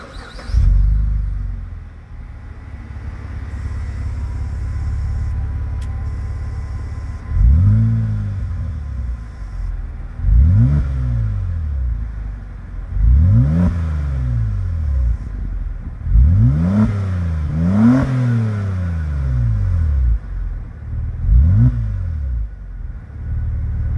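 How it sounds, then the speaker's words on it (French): Opel Insignia OPC car engine starts with a low rumble, settles into a steady idle, then is revved repeatedly in rising and falling sweeps, several quick blips in succession, close and loud, with no talking. "on va démarrer la voiture pour écouter ce que ça donne."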